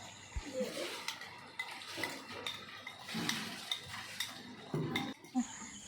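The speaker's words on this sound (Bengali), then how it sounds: "টক দইটা দেওয়ার পর আমরা বেশ কিছুক্ষণ কষাতে থাকব" Chicken in sour yogurt is sautéed and stirred in a pan for chicken dadagiri, with a spoon scraping and clinking against the metal over a faint cooking hiss, steady and close with no talking.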